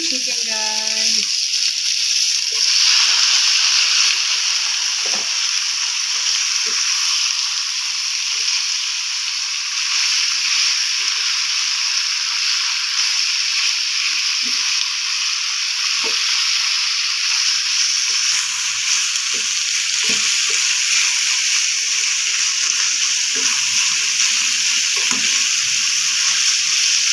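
Chicken pieces sizzle and fry steadily in a hot pan for a Filipino kinamatisan manok with moringa, a loud continuous hiss with occasional stirring clatter, and a voice talks briefly at the start.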